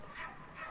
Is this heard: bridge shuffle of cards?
no